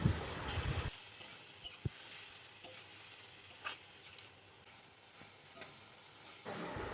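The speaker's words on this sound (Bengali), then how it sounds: "বড় সাইজের একটা পেঁয়াজ বাটা দিয়ে দিলাম। একটু নেড়েচেড়ে নিচ্ছি।" Onion paste and garlic sizzle and fry in a pan, stirred with a few scraping knocks of a spoon, a steady close hiss with brief louder bursts of stirring.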